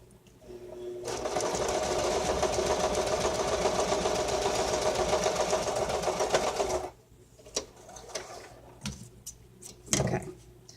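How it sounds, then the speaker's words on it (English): A sewing machine runs a straight stitch along the edge of a canvas piece in a steady, continuous whirring rattle for about six seconds, then stops, leaving a few faint clicks and handling noises. "I'm going to just run a stitch, a straight stitch, along this edge of this canvas"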